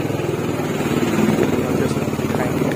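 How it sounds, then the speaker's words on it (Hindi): A motorcycle rides along a village road toward a riverside ghat, its engine a steady continuous drone with wind noise, with no pauses and no talk over it. "हम जा रहे हैं बाइक से"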